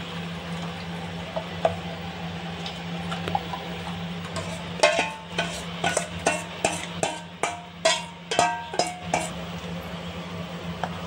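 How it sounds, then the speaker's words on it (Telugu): A spoon repeatedly scrapes and knocks against a kadai while stirring thick rice halwa mixture, faint at first and then in a steady rhythm of sharp metallic strokes over a low background hum. "ఈ మిశ్రమాన్ని అడుగు పట్టకుండా కలుపుకుంటానే ఉండాలి"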